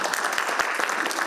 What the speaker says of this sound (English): Please join me in a big round of applause for this wonderful panel.